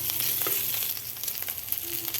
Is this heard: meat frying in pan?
yes